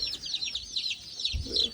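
Young chicks, including California Tan chicks, peep continuously alongside hens, with rapid high chirps overlapping close by and a soft low cluck near the end.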